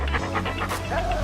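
Cartoon dog Clifford panting in a steady, breathy rhythm, close and fairly loud over a low background hum.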